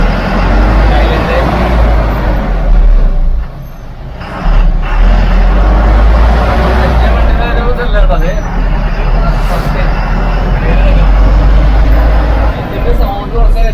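A 28-seat private route bus in Thrissur drives through village roads, its engine a loud, steady low rumble with a brief dip partway through, under background babble and road noise.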